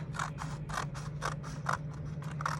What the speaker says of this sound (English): I'm going to take my scissors, start at this corner, and I'm going to cut up,